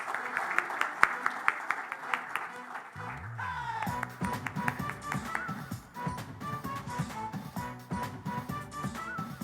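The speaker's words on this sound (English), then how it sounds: "Ladies and gentlemen, keep the round of applause going on, please." Applause from a crowd at a cricket jersey-unveiling press conference mixes with loud music, scattered claps and cheers running throughout.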